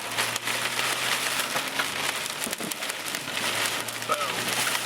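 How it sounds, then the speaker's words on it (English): Hail drums on a car during a tornado warning, a dense, steady rattling patter across the roof and glass, with a few sharper knocks and brief voices inside the vehicle. "There's the hail."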